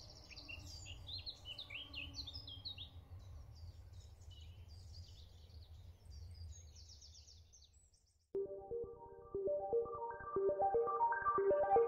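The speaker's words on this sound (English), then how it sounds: "You can hear the old birds chirping and all that." Birds chirp and twitter steadily over a low outdoor rumble along the River Colne in Essex, then a bright ringing melodic tone takes over near the end.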